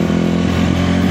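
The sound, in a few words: dirt bike engine revving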